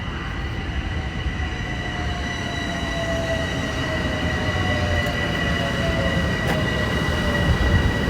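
A train passes near a train station, a steady loud rumble of rolling wagons with faint wheel squeal and high whining tones running throughout, close by, with no talk.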